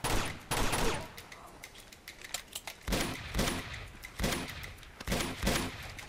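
Gatling gun fire in the video game Uncharted 2: Among Thieves, with loud sustained bursts of rapid gunfire repeating several times, separated by short gaps with scattered shots.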